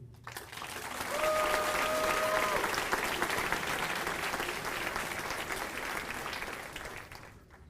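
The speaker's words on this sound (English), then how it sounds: "Let us give them all, and all other DODS students, a round of applause" A crowd of parents and guests at a high school graduation ceremony claps in sustained, dense applause that swells early, then gradually tapers off, with a brief whistle-like tone near the start.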